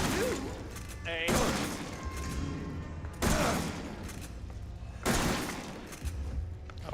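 Gunfire in Resident Evil 7: several loud, close shots boom at intervals of about two seconds, each with a long echoing tail, over a steady game ambience.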